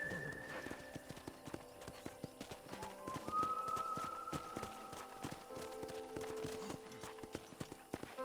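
A horse's hooves clip-clop at a trot in the Red Dead Redemption game, steady rhythmic hoofbeats close by, with a brief whinny near the start and faint game music underneath.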